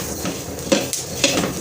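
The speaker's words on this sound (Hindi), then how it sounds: "डाल के अब हम अच्छे तरीके से इनको भून लेंगे" Coriander seeds dry-roasting in a pan: a handful of sharp metallic clinks and scrapes of a spoon against the pan, with quieter rustling between them.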